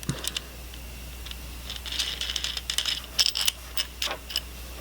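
Metal washers and wing nuts being fitted onto the carriage bolts of wooden dowel spool clamps, heard as small, close, irregular clicks and clinks over a low steady hum.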